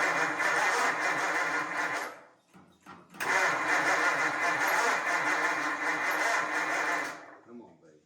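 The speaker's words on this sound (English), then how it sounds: "Shove some gas in it and fire it up." An old car engine, given gas after breaking down at a car show, cranks with a steady whirring starter grind for about two seconds, pauses briefly, then cranks again for several seconds before cutting off, close and loud.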